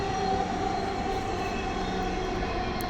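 Steady low rumble and whine of the Dhaka metro rail train running on the Uttara North to Motijheel line, heard as a continuous, even drone.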